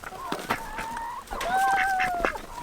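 Young backyard hens cluck and squawk close by with rising, wavering calls layered over one another, with continuous background noise throughout.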